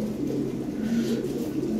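A pair of red Lahori pigeons coo with low, throaty, rolling calls, close and continuous over a murmur of background noise.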